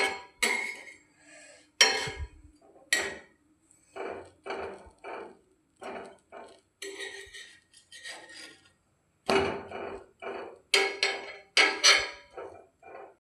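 Bread slices toasting in a pan on a winter night, heard mostly as a run of sharp clinks and knocks from the utensil against the pan, spaced irregularly and close by, with no sizzle standing out.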